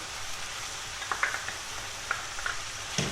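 Onions and bell pepper fry in a pan, with a soft steady sizzle and a few light scrapes and taps as they are stirred, alone and fairly quiet.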